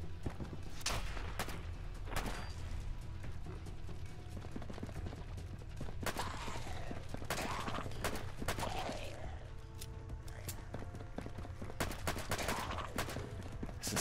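Gunfire in the video game Fallout London, with sharp scattered shots and short bursts over a steady low background rumble, with no talk.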